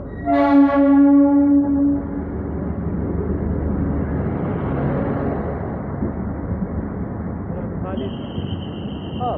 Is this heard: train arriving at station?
yes